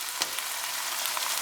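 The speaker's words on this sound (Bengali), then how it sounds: "পেঁয়াজ দিলাম। এটাকে এখন আমি 10 মিনিট মাঝারি আঁচে ভেজে নেব।" Chopped onions sizzling in a pan over medium heat while cooking chicken korma, a steady faint hiss with small crackles and no voices.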